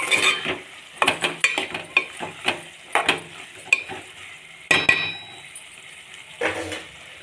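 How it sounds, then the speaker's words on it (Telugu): Tomato pieces are stirred as they fry in hot oil, giving a run of sharp spoon-and-pan scrapes and clinks over a steady close sizzle. There is no talking. "ఇప్పుడు మళ్ళీ గోలనిద్దాం నూనెలో."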